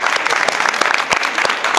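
An audience claps loudly and steadily in a dense burst, with no voices standing out above it.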